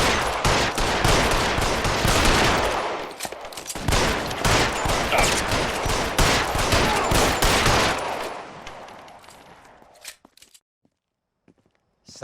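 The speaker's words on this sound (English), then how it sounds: "I'm gonna shoot down this entire sign." Sustained gunfire in the L.A. Noire video game, dense overlapping shots for about eight seconds that then cut off into near silence, loud and close.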